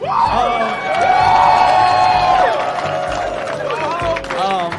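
A comedy club audience cheers, whoops and applauds loudly and continuously after a heckler is put down, with voices rising through the crowd noise.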